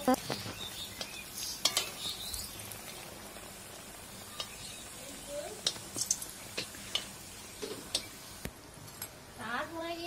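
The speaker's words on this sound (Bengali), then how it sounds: "আম্মু তেলে ভাজতেছে" Stuffed samosas of chickpeas, peanuts and egg fry in hot oil with a soft steady sizzle, punctuated by metal utensil clinks and scrapes against the pan, with voices speaking at times.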